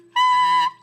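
A clarinet mouthpiece and reed blown too hard give a single shrill, piercing squeak, brief and loud, lasting about half a second.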